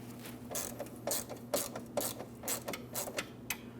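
Ratcheting clicks come in quick, uneven bursts, close and fairly quiet, as a hose clamp is tightened on the fuel filler neck of a 2005-2010 Chrysler 300.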